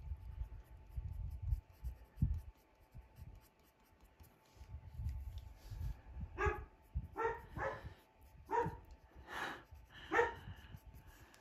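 A dog barks about six times in a quick series after quieter rustling and low thumps, the barks sharp and moderately close.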